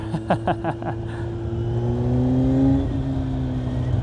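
Kawasaki Z900 motorcycle fitted with a Leo Vince GP Corsa black slip-on exhaust, loud and close, with a few sharp throttle blips that settle into a steady, rising rumble.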